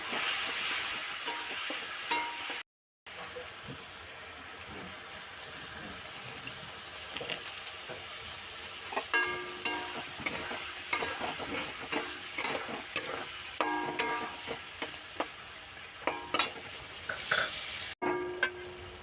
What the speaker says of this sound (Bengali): এবারে দিয়ে দেব অল্প জল আর অল্প কাঁচা লঙ্কা গুঁড়ো দিয়ে মশলাটা কিছুক্ষণ কষিয়ে নেব।